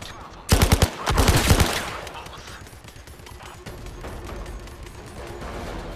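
Rapid bursts of turret gunfire hammer away in Zero Caliber, two loud clusters of fast shots in quick succession, then fading into lower distant battle noise and rumble.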